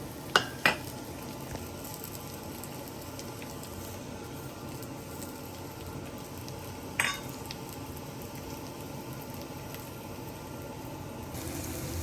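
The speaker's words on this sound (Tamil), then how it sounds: "நல்லா வதங்கிடுச்சு ஆனியனு" Onions sautéing and being stirred in a pan for urad dal onion chutney, a steady soft sizzle running throughout with a few sharp utensil clinks near the start and another around the middle.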